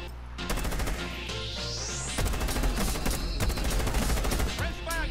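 Gunfight in Rainbow Six Siege: continuous rapid automatic fire from several weapons, loud and close, with a rising whine early and crashing impacts throughout, voices faintly underneath.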